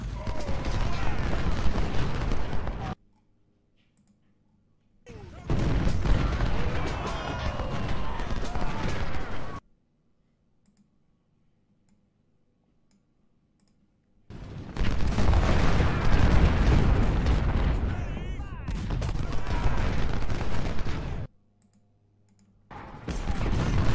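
Musket volleys and artillery fire from the Civil War strategy game Ultimate General: Civil War, set at the Battle of Fredericksburg, come in two long loud bursts of dense crackling gunfire separated by near silence.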